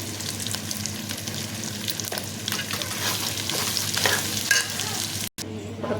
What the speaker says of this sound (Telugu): ఇప్పుడు కారం అంతా కలిసేటట్టు కలిపిందండి.